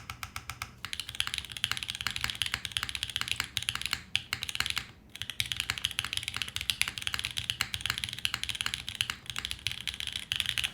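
Rapid, steady typing on a Wendy TKL custom mechanical keyboard, close and crisp, with dense key clacks running continuously and a brief pause midway, no voices.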